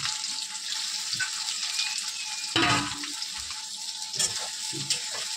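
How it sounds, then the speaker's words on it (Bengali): Chopped onion fries in oil in a pan with a continuous sizzle, and a few sharp clinks and stirring knocks rise above it now and then. "তো পেঁয়াজটা এখন দিয়ে দেবো তেলের উপরে।"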